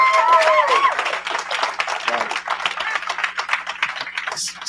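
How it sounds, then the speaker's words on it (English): A group claps for a guest at a night meeting, applause starting under a brief voice and then settling into scattered, uneven clapping that thins out toward the end. "Everybody give him a big round of applause"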